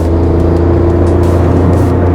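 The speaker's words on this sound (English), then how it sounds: "I have pinned the throttle to the floor and well, it is accelerating at a pretty quick pace" A Tata Tiago iCNG car accelerates at full throttle on CNG, its engine making a loud, steady, close drone with a strong low hum and no talking over it.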